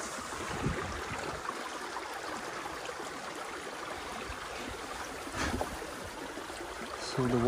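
Water rushes and trickles steadily in a soft, continuous wash, draining through a breach in a beaver dam, with faint wind and no voices.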